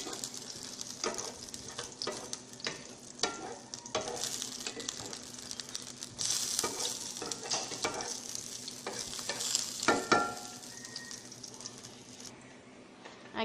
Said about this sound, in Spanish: Lo vamos a mover con una palita de madera para que se vaya dorando.